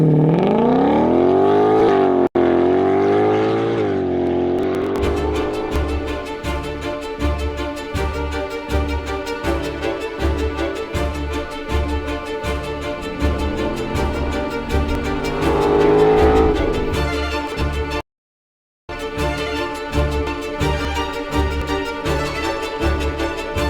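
A 2025 Ford Mustang GTD sharing its engine with the GT500 drives hard, its loud engine roaring and climbing through the revs with brief dips at gear changes and one short break near the end.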